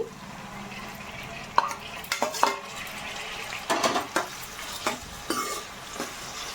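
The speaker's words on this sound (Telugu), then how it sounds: "ఉల్లిపాయలు బాగా మగ్గనివ్వాలండి" Onions sizzle softly in a pan while a spoon stirs and scrapes against the metal in scattered, clinking strokes.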